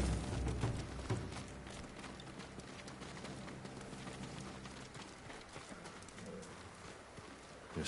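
Faint hooves of samurai horses clip-clopping at a stable in the video game Ghost of Tsushima, a soft, uneven patter of steps over low ambient noise, with some cooing birds in the background.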